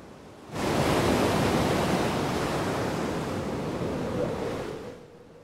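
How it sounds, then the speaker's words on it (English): Rough ocean waves in the Lost Odyssey video game, a loud, steady roar of surf and rushing water that swells in, holds for several seconds, then fades, with no voices. "look at those waves."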